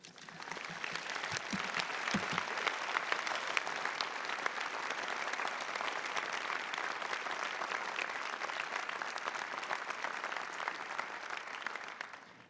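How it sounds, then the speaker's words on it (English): Sustained audience applause after a student speaker's talk at the Johns Hopkins University School of Medicine 2016 graduation: an even, dense wash of clapping lasting many seconds in a large hall, heard alone. "Let's have another round of applause for that great talk."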